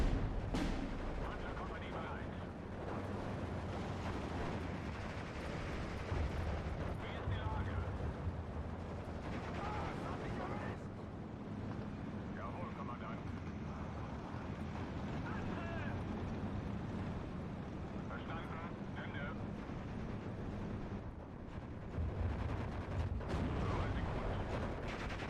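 Dense battle din from the Steel Division 2 war game, with Panzergrenadier machine guns rattling amid continuous artillery booms and rumbling explosions, while someone talks throughout.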